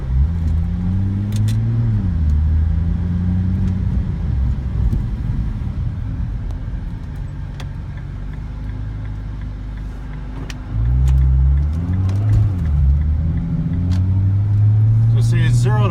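A Nissan GTR R35 with a KAPS AWD controller cruises along with a steady, loud engine drone and road rumble that dip briefly, then rise again. Someone talks over it throughout.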